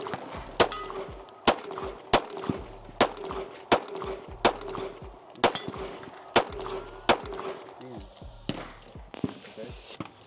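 A Glock 17 pistol fires about a dozen sharp, close shots in a quick, fairly even rhythm outdoors, with people talking faintly between shots.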